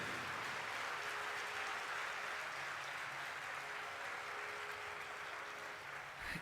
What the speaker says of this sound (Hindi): एक बार जोरदार ताली बजाइए जैन मुनि लोकेश जी के लिए।